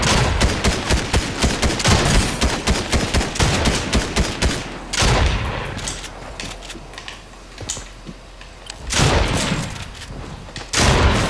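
Rapid gunfire from a weapon in Fortnite, a dense run of sharp repeated shots, then a pause and another burst, loud and close, with keyboard clatter mixed in.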